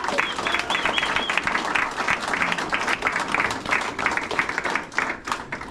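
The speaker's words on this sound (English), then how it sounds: "let's give them a round of applause" A crowd claps and applauds continuously at a Savannah Bananas Hall of Fame event, a dense, sustained wash of hand claps fairly loud throughout.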